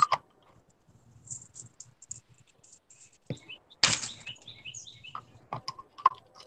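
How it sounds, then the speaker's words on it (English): Soft bird chirps drift in from a distance through an open window, scattered and intermittent, with faint household clicks and rustles close by. "I hear birdies chirping."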